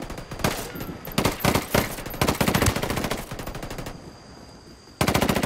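Rapid automatic gunfire from the video game Ghost Recon Wildlands, loud bursts and sustained volleys of machine-gun shots with a brief lull before another burst at the end.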